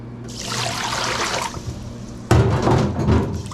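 Murky rice-washing water, left cloudy after gently kneading and rinsing the grains, pours and trickles out in a steady stream, then splashes louder and heavier partway through, close by with no talk.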